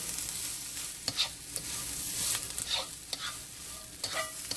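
Quick stirs of napa cabbage slaw in a hot pan: a bright, hissing sizzle underlies several crisp scrapes and tosses at irregular intervals, up close with no voices.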